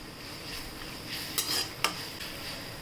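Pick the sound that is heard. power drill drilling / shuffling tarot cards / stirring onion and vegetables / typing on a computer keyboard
stirring onion and vegetables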